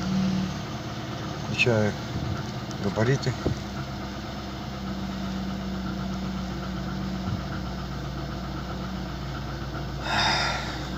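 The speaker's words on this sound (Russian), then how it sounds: "Так, заводим автомобиль." A VAZ 2115 car, whose alternator belt is prone to whistling, cranks and starts, then settles into a steady low idle, while someone talks over the early part.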